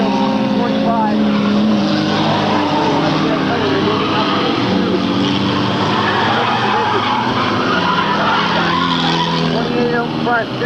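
Race cars coming down the start-finish line, a loud continuous roar of engines and tire noise close by, with a commentator speaking over it.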